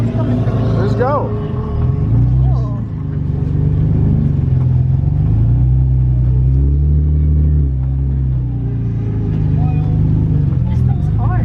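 A car engine rumbles and revs unevenly at close range while a learner drifter works the clutch and throttle, the low drone rising and falling throughout with people talking over it.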